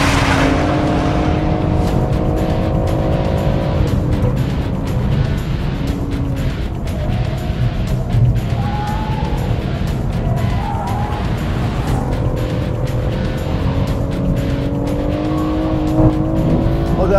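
A car, either a BMW M140i or an Audi S3 Sedan quattro, runs a fast lap on a race track in hot weather; loud, close engine revs climb and fall through gear changes, with occasional tire squeal.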